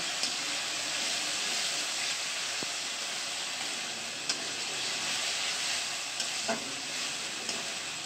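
Ginger, garlic and green chili paste fries in hot oil, a steady close sizzle and hiss holding for the whole stretch with a few faint scrapes of stirring, no voices over it.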